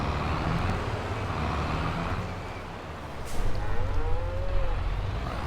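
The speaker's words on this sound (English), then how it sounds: "Hello, cows. I can hear you." Cows lowing on a farm in Farming Simulator 22, a single drawn-out moo rising over a steady engine and vehicle hum, moderately near and set against constant machinery noise.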